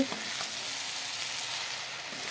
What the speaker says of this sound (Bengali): দেখো মাছগুলো একটা পিঠ ভাজা হয়ে গেল, এখন উল্টিয়ে দিয়েছি।